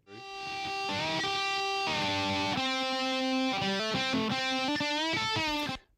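Unprocessed electric guitar solo from the end of a rock song, brittle and bright, with sustained bends and quick runs of single notes, close and loud with no voices.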